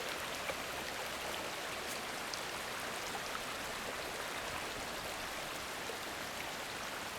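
A stream runs beside a hiking trail on Starr trail, a steady, even wash of flowing water heard alone at moderate distance, unbroken from start to finish.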